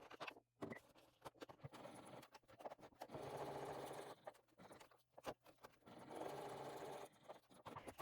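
A sewing machine stitches the panels of a small crossbody bag, with bursts of close, fast mechanical whirring broken by short pauses and lighter rustling handling noises between runs.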